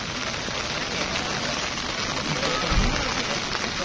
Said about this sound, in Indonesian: Kondisi saat ini hujan